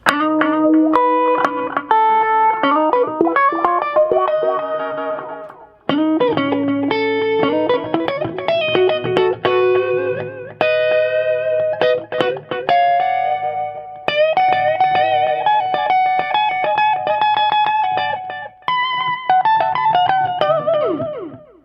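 Electric guitar played through an Orange CR120 amp with tape-echo-style delay, ringing sustained melodic lines and chords with trailing repeats and reverb, steady and loud throughout with short pauses between phrases and no talking.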